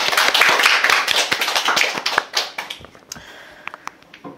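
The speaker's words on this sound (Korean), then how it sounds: "우리 귀한 말씀 주신 우리 전하님께 우리 박수로 하겠습니다." A church congregation at a worship service applauds after the sermon: a dense burst of many hands clapping together, thinning out into scattered claps and dying away within a few seconds.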